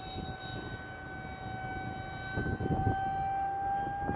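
An RC L-39 Albatros electric ducted fan jet flies past outdoors, its steady high-pitched whine holding as a faint, distant tone over wind and background noise.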